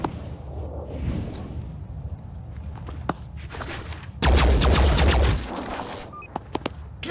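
Rifle fire from soldiers in the tactical game Phoenix Point, a dense burst of rapid shots lasting about a second, followed by scattered clicks and lighter impacts, with no talking.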